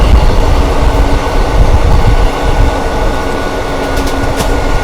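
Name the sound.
New Delhi Howrah Rajdhani Express train passing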